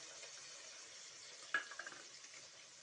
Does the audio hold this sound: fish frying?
yes